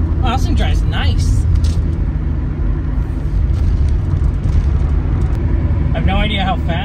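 A Volvo 940 Turbo car cruising on a highway, its loud, steady engine and road rumble continuous throughout, with a person talking over it at the start and end.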